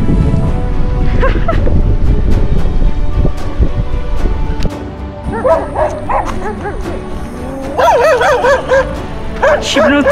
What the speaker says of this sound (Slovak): Šibnutý pes.